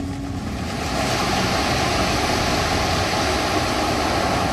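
Ocean waves washing onto the shore near a seaside temple, a loud, continuous roar of surf with wind buffeting the microphone.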